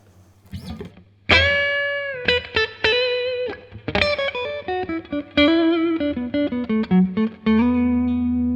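Electric guitar notes and chords through a Crazy Tube Circuits Splash MK3 reverb pedal ring out with a wet, lingering reverb tail, played as a loose melodic phrase with sustained final notes.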